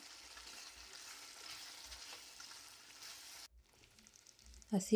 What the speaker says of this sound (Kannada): ಈಗ ಇದಕ್ಕೆ ಕೊನೆಯದಾಗಿ ಕಾಯಿ ತುರಿ ಹಾಗೆ ಕೊತ್ತಂಬರಿ ಸೊಪ್ಪನ್ನ ಹಾಕ್ಕೊಳ್ತೇನೆ ಕಲಿಸ್ಕೊಳ್ಳೋಣ ಇದನ್ನು